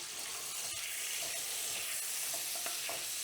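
Butter melting into extra virgin olive oil in a skillet on lowered heat gives a steady, fairly close sizzle with faint crackles throughout, and no one talks.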